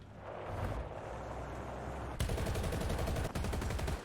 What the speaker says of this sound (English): you've got a nice commander machine gun